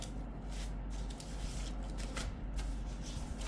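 Handmade cards shuffled in the hands, giving a steady, close, papery rustle that runs without a break for a few seconds, with no voices.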